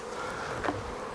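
Honeybees from a hive knocked loose with a tap on the roof, a dense steady buzz filling the short stretch, with a brief rise in the middle.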